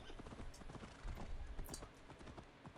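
Horse hooves in Assassin's Creed Valhalla, quiet uneven clip-clop strikes at a trotting pace, with a brief whinny and people talking faintly over them.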